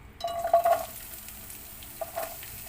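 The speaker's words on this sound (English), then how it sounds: "And just saute until it gets translucent." Chopped onion sautés in a small amount of oil for vegetable fried rice with kikiam: a soft, low sizzle with two brief bursts of spatula stirring, early and again near the end.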